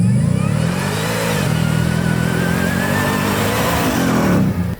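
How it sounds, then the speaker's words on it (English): The 700-horsepower engine of a Ford F-150 Raptor R with a 10-speed transmission revs hard, rising and sustained for several seconds as a loud, close, continuous roar before cutting off abruptly. "This 700 horsepower engine is very explosive."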